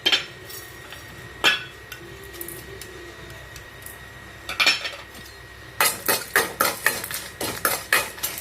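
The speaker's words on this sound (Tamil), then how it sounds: "வறுத்துக்க சொன்ன பொருள் எல்லாத்தையும் இதில் போட்டுக்கோங்க. போட்டு நல்லா வறுத்துக்கோங்க." Ingredients are stirred while roasting in oil in a pan for a banana stem gravy. A spoon clanks against the pan in scattered single knocks, then in a quick run of metallic scrapes and taps.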